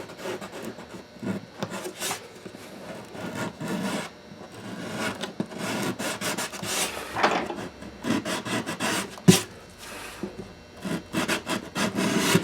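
A guitar bridge foot is rubbed back and forth on 180 grit sandpaper, a steady gritty rasping in uneven strokes with a few sharper knocks, close and fairly loud.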